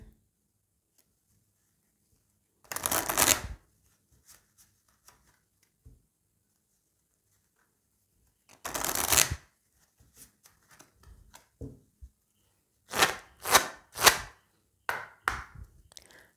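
A deck of cards is shuffled in a few separate short bursts of papery riffling, each lasting about a second, close by. Light taps and clicks fall between the bursts in an otherwise quiet room.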